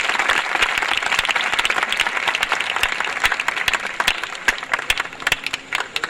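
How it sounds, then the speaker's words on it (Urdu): Applause from a church audience honouring a servant of God at a gathering, dense steady clapping throughout with sharper individual claps standing out near the end. "آپ کی زوردار تالیاں خدا کے خادم کے لیے۔"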